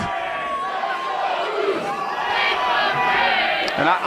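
A wrestling crowd at an FSW show cheers and shouts steadily throughout, split between Sefa Fatu and Graves, with scattered voices rising out of a dense, sustained roar.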